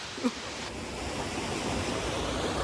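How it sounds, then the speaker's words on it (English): A small waterfall rushes in a steady, even broadband wash somewhere out of sight near a truck camper, with no other sound over it. "Got my own little waterfall back there somewhere."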